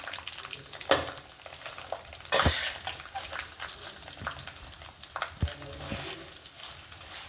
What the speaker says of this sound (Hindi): इनको 2 मिनट के लिए हम फ्राई करेंगे।